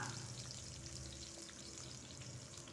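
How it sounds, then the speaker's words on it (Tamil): Sliced onion and a few garlic cloves frying in oil in a pan, producing a continuous, even sizzle that stays quiet and steady throughout with no one talking. "இது ரெண்டுமே நல்லா கொஞ்சம் கலர் மாதிரி வர வரைக்கும் நம்ம வதக்கி எடுத்துக்கலாம்"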